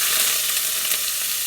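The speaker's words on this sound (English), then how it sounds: "It's popping because the shrimp is still wet" Wet shrimp browning in a hot skillet before going into fettuccine, a loud, dense crackle and pop of spattering oil that runs continuously and close up.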